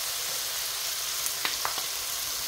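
Bitter gourd (ampalaya) with tomatoes sautéing in a pan, a steady close sizzle with a few light taps of a utensil.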